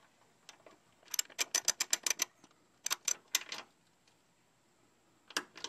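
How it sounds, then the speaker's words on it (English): A socket ratchet tightening a 10mm bolt on a Honda Element, heard as quick bursts of sharp clicking, several strokes in a row, then a pause, another burst and a final short run, close and crisp. "I started the 10mm bolt by hand and then tightened it down with the socket."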